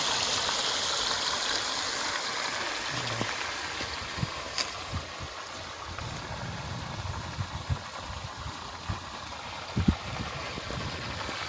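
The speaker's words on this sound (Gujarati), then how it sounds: "હાલો ભાઈ પાણી ચાલુ કર્યું છે" Irrigation water streaming steadily into a wheat field, with a continuous rushing flow and a faint engine-like hum beneath, plus a few scattered knocks.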